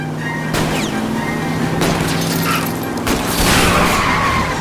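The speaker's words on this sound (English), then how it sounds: "I'll try to shoot out his tire" Gunshots fired at a fleeing car's tire in L.A. Noire, a few sharp separate cracks spaced about a second apart over a constant loud engine and driving drone, with a final heavier impact near the end.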